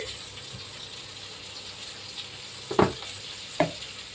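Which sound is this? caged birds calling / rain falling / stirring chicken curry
stirring chicken curry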